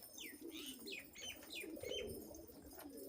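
Pigeons coo softly in repeated rolling calls, with faint chirps and a brief flutter of wings in the background.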